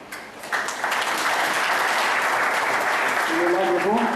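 An audience at a university awards ceremony breaks into applause, rising quickly into a dense, sustained wash of clapping that carries on steadily, while a voice speaks over it near the end.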